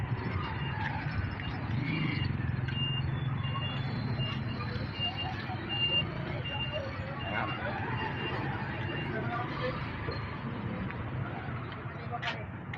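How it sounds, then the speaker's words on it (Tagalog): Busy street traffic in El Nido with engines rumbling steadily and a faint, repeating reversing beep from a vehicle partway through, with voices murmuring in the background. "Traffic yan, kaya nakalakad na lang tayo ngayon."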